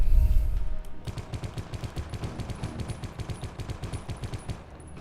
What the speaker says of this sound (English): I'm just kind of firing over there, seeing if I hit somebody, also reloading.